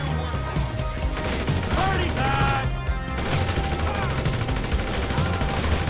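Rapid bursts of gunfire in GTA 5 crackle over a busy, noisy background, with repeated rattling volleys and a brief lull in the middle.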